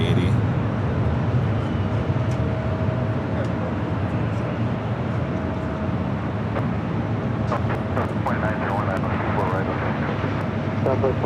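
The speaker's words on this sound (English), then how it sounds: "There's the A380." An Airbus A380 airliner at LAX roars steadily for the whole stretch, a loud continuous broadband engine rumble with faint scattered clicks near the end.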